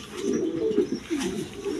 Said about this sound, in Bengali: এক পেয়ার মন্ডিয়ান কবুতর আছে, একদম বিগ সাইজের